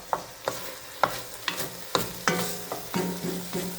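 Ground beef browning in a pan with chili powder and taco seasoning for beef chili, a steady sizzle broken by sharp spatula scrapes and knocks roughly every half second.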